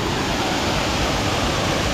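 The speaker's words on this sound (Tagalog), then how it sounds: "Manipis na lang yung tubig na bumabagsak." Hulugan Falls in Laguna, a thin stream of falling water making a loud, steady broadband rush with no breaks.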